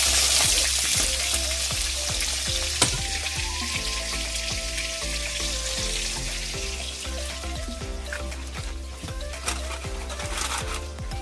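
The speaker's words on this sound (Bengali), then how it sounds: "দেখো আজকে মাংস রান্না হচ্ছে।" Meat cooking in a pan in a home kitchen, a continuous close sizzle and crackle with faint clatter, steady throughout with no talk.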